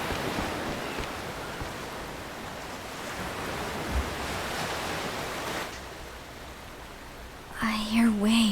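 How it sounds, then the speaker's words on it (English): Ocean waves in the video game Octopath Traveler II wash in as a steady, broad hiss of surf that eases off slightly, before a voice begins speaking at the very end. "I hear waves."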